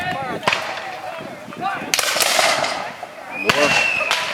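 Several sharp blasts ring out amid a noisy outdoor crowd at a Civil War battle reenactment, with loud booming bursts near two seconds and again near three and a half seconds, like cannon fire.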